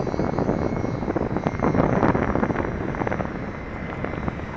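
A UMX Timber RC model airplane's small electric motor and propeller run at full throttle outdoors, giving a steady, buzzing whine with some wind rush that holds throughout, with no talking.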